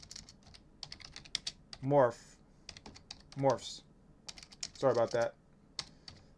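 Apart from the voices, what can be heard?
typing on a computer keyboard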